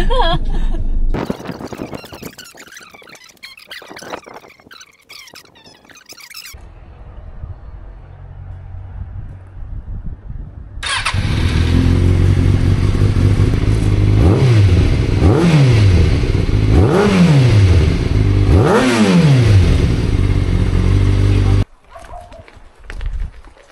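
A Kawasaki ZX-6R 636 track motorcycle engine fires up and revs repeatedly in rising, throaty bursts, loud and close, after a quieter stretch of faint movement and clatter.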